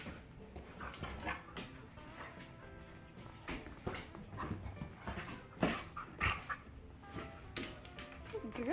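Dogs whimper, yip and pant while playing indoors. The sounds are soft, scattered and close, mixed with rustling movement throughout.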